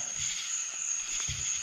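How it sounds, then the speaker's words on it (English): Crickets in dark Florida woods at night, a continuous high-pitched trilling chirp that holds steady, with faint low rustling beneath and no talk. "the crickets are out because they are making all kind of racket"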